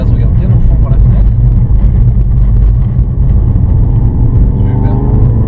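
A Ford Focus RS engine roars steadily and close while drifting, with rising revs and a low rumble throughout; a voice talks over it.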